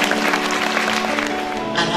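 Audience clapping at a building inauguration ceremony for an Islamic college, a dense, steady patter of many hands, with voices mixed in over the clapping.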